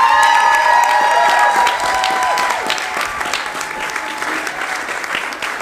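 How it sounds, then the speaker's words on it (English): Loud applause with some cheering from a church youth Christmas concert audience, strong at first and easing slightly, with a high sustained tone fading out early on. "So if you could give Sister Ollis a round of applause."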